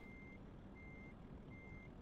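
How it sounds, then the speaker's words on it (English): A truck's reversal alarm in Euro Truck Simulator 2 sounds three evenly spaced, steady electronic beeps over a constant low engine rumble. "I hear the beeping of a truck that's trying to reverse."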